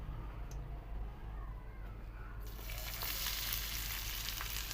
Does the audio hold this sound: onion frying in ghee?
yes